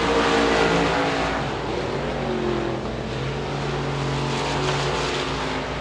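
USA Limited Modified race cars roar around the dirt oval at Devils Bowl Speedway late in a race, a loud, continuous engine drone with shifting pitch from several cars passing near and far.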